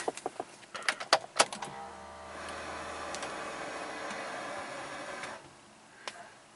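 Keys click and jangle in a 2002 Mini Cooper with a dead dash and no communication fault, then a steady whirring hum runs for about four seconds as it is cranked and starts, before settling quieter.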